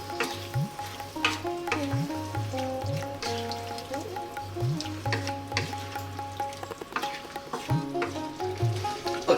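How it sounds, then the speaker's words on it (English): A simmering vegetable biryani mixture with potatoes bubbling in a pot, stirred now and then, giving soft scraping strokes and irregular bubbling pops over a constant low hum, close up with no voices. "Give it a stir every now and then."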